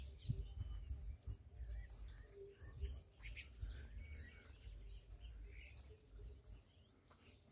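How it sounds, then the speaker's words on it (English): Birds chirp and call in the countryside of Commewijne, Suriname, with scattered bright tweets over a low background rumble that sounds like wind or handling noise. "listen to the birds. Hear them?"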